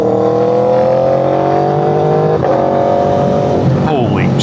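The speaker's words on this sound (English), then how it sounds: "Let's give it a little downshift." An Aprilia RSV4 Factory motorcycle engine revs hard and climbs in pitch, then a sharp blip marks a downshift before it winds up again, loud and close.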